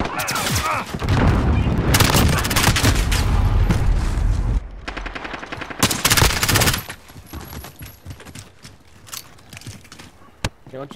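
In a multiplayer shooter video game, rapid automatic gunfire rattles loudly for several seconds, then comes in further bursts and scattered single shots, with a dense, close, game-mixed character.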